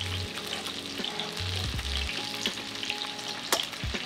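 Onion rings fry in hot oil with a steady close sizzle and crackle, with a few faint clinks from a utensil and no talking.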